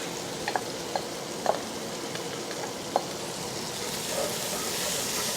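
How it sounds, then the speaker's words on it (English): Onions, peppers and other vegetables for chili from scratch sizzle steadily in a pot, a constant close frying hiss with a few soft clicks and stirring knocks scattered through it. "now let's go ahead and add the rest of our vegetables"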